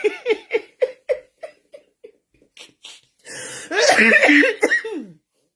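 A person coughs on purpose for a role in a Yoruba comedy. A run of short, evenly spaced dry coughs fades off, then a louder, rougher burst of coughing follows.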